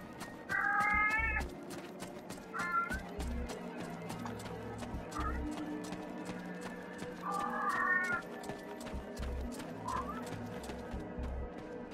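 A domestic cat meows repeatedly nearby, several drawn-out rising and falling calls spread over a noisy background of video game sound with low thumping and clicks.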